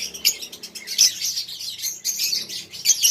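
Pet lovebirds chirp in quick, high twittering bursts, close and clear, repeating throughout with soft rustling beneath.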